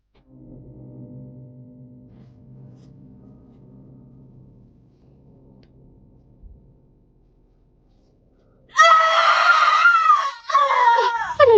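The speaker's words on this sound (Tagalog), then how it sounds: "bigla niyang marinig ang malakas na sigaw" A woman's loud, piercing scream in a Filipino aswang horror audio drama bursts in after a stretch of low, quiet background sound, ringing out in two sharp, close bursts near the end.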